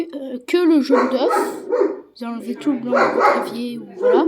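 A German shepherd barks repeatedly in short, loud yelps indoors in a home kitchen, sounding close and overlapping someone speaking throughout.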